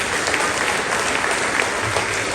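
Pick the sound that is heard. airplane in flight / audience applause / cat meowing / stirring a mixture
audience applause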